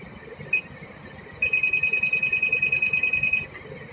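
A ship's off-course / heading monitor alarm sounds as a steady electronic tone, first as a brief blip, then as a sustained rapidly pulsing beep lasting about two seconds before stopping, heard alone over a low background hum.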